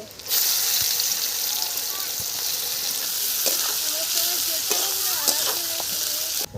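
Onion and a bay leaf with whole garam masala sizzle and fry in hot oil for a Bengali malai curry, a steady loud crackle with stirring clinks throughout.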